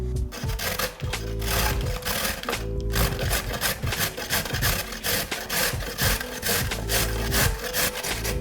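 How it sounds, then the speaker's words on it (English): Vegetables rubbed against a fancy kitchen grater make a rapid, rhythmic rasping scrape, loud and close, repeating steadily without pause. "just to grate our vegetables in this section"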